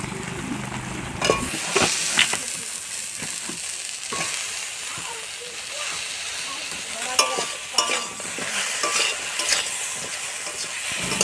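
Baital gourd pieces stirred in a frying pan with tomato for a sour fish curry, with repeated spatula scrapes and knocks over a constant close sizzle and no talk.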